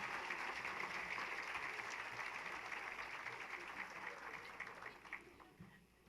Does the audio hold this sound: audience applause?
yes